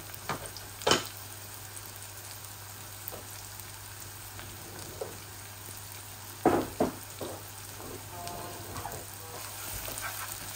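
Meat frying in a pan for a meat and potato curry, a soft steady sizzle with a few louder spattering bursts, quiet and close without talk.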